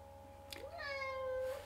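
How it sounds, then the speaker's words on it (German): A cat meows once, a short clear rising-then-falling call, close and fairly quiet against a low steady hum in an indoor room. "Katze, ich komme gleich."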